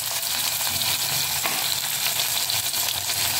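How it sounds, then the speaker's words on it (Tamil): Mustard seeds, fenugreek, asafoetida and onion fry in hot oil with a loud, steady, close-up sizzle and crackle that runs throughout without a break. Nobody speaks. "இந்த கடுகு போடுறதுக்கு கொஞ்சமாக வெந்தயம், கொஞ்சம் பெருங்காயம், இந்த வதக்கிறதுக்கு வெங்காயம் எல்லாம் போட்டு"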